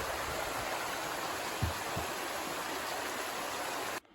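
The North Fork stream on the Appalachian Trail rushes steadily in a constant broadband wash of flowing water, close and even, with a couple of soft thumps partway through.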